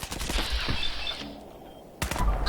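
Rapid bursts of gunfire in the video game Fallout 4 crackle through the clip, a sustained volley with a brief lull before more loud shots near the end.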